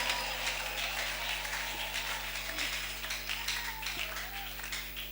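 A church congregation applauds and claps together, a fairly soft, sustained patter of many hands over a low electrical hum, with a faint voice underneath.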